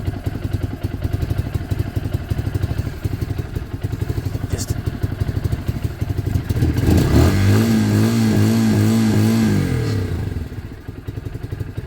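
A Piaggio Fly 100 scooter engine idles after warming up, a rapid close putter with a slightly low, uneven idle, followed by a rising blip of revs and a steadier drone before it fades.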